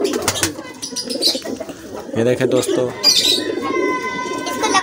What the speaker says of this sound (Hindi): फिर से अंदर चले गए सारे कबूतर।